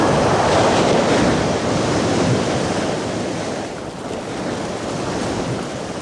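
Steady roar of ocean surf with heavy wind noise, loud and continuous, rising and falling only slightly, with no voices.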